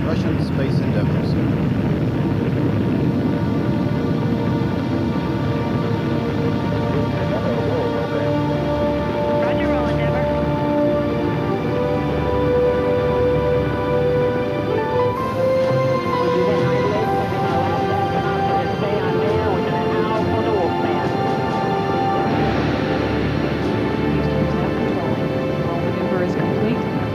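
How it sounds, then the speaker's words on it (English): The Space Shuttle Endeavour lifts off with its boosters ignited, a loud, steady, sustained roar that keeps up without pause, with tonal hums layered over the rumble. "booster ignition and liftoff of the Space Shuttle Endeavour"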